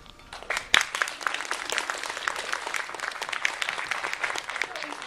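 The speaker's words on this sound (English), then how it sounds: "let's have a round of applause for Sophia Scarpa" A studio audience gives a round of applause, brisk scattered clapping that starts softly, rises and continues steadily for several seconds.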